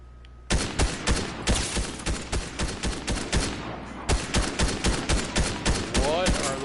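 Rapid Fortnite gunfire, a burst of loud, evenly spaced shots that stops briefly and then resumes in another run of quick rhythmic blasts.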